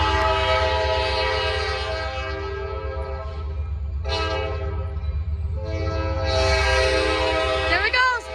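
A train rolls past a main-road railroad crossing with a steady rumble and clatter, the crossing bells ringing throughout and the horn blaring loudly near the end.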